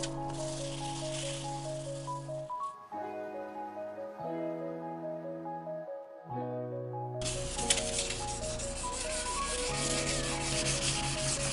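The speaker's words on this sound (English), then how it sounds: "I'm gonna go ahead and start wet sanding this" Wet sanding of faded carbon fiber with a steady, close scrubbing rasp that runs through most of the clip, heard under loud tonal background music.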